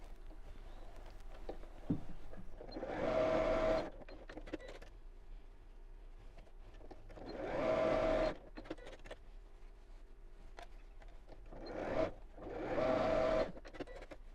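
A sewing machine stitches straight across the corners of a fabric bottle gift bag in three short bursts of steady whirring, with quiet handling of the fabric in the pauses between them.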